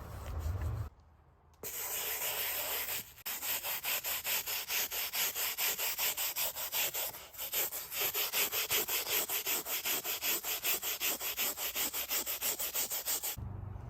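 Hands scrub the wheel of a Husqvarna FC450 dirt bike with a rhythmic, close rubbing hiss that comes in rapid, even strokes and pauses briefly a few times.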